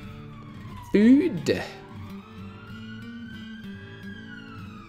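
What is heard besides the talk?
police car siren passing outside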